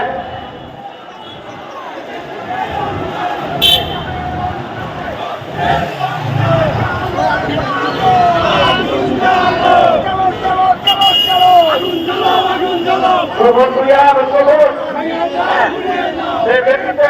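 A large procession at a political rally in Dhaka makes a loud, sustained roar, with chanting and shouts that rise and swell over about seventeen seconds and crowd voices throughout.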